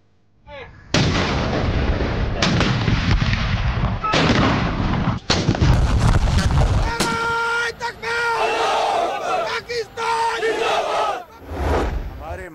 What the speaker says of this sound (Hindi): 31 और सूबाई दारुल हुकूमतों में 21-21 तोपों की सलामी